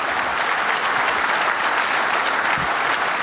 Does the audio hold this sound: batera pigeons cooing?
no